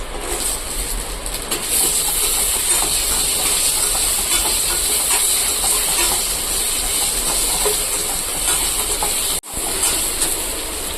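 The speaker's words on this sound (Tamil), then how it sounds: "இந்த தக்காளி பழத்தையும் போட்டு நல்லா வதக்கி விட்டுருவோம்" Cut tomato pieces sautéing in a hot pan for a Vanjaram fish curry, giving a steady, loud hiss and sizzle throughout that breaks off for a split second near the end.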